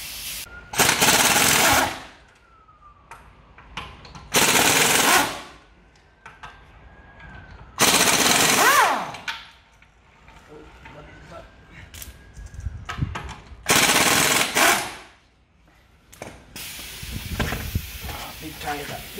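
An impact wrench zips the wheel off a 2015 Audi RS6 C7 during a rear brake pad change, firing in five loud, close bursts of one to two seconds each, separated by quieter pauses with faint shop noise.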